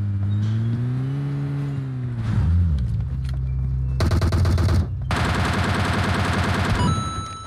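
Bursts of automatic gunfire ring out in PUBG Mobile, dense rapid fusillades filling the latter half after a stretch of engine and game ambience, loud and close throughout.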